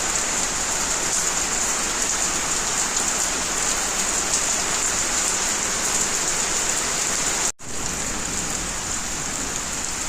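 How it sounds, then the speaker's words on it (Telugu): Heavy, steady rain pours down at night without pause, a dense hiss that cuts out for an instant near the end before resuming. "నైట్ కూడా వానే మొత్తం"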